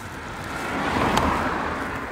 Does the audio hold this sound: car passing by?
yes